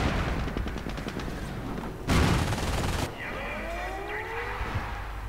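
Bursts of assault-rifle gunfire and explosions in a WWII strategy video game, rattling rapid fire then a louder blast, layered over game sound effects without talk.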